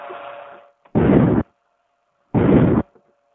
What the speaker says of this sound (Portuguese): Pelo menos temos uma explosão.